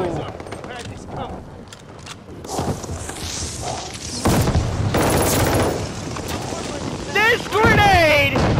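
Explosions and gunfire ring out in a team deathmatch shooter game, with a loud blast around the middle and bursts of shots over game noise, while someone talks excitedly over the action.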